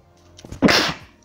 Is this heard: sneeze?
yes